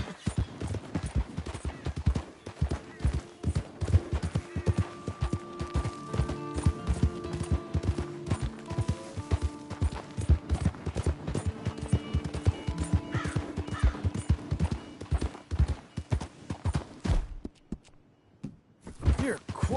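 Horse hooves clip-clopping steadily in Red Dead Redemption II, a dense run of hoofbeats through most of the stretch with an occasional whinny, fading out near the end.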